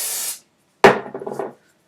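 A can of root-lift spray mousse hisses in a brief burst, then after a pause comes a rattling shake with several quick rhythmic knocks, close and alone.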